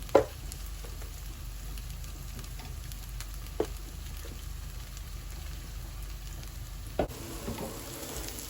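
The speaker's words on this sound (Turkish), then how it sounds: "Evet, köşmerim yavaş yavaş kızarıyor." Höşmerim frying in butter in a pan on a stove, a faint steady sizzle with a few sharp clicks and clatters scattered through it.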